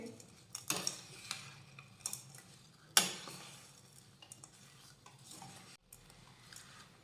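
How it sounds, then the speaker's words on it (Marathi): A spoon scrapes and knocks against a pan while grated raw mango and jaggery are mixed, with irregular quiet clinks, one sharper metallic tap, and a faint low hum underneath, no speech. "आता हे मिक्स करून घेऊयात हे व्यवस्थित मिक्स करून घ्यायचे"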